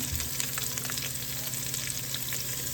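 Chopped tomatoes being stirred into a sizzling masala in a pan for paneer mushroom biryani, a close, steady frying hiss with soft scraping stirs throughout and no talk.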